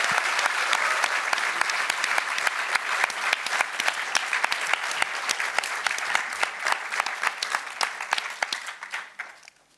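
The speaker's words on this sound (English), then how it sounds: "Can we make some noise again for Tito?" Audience at a live comedy show applauding steadily, dense clapping from a full room sustained for several seconds and then thinning out and fading at the end, no voices over it.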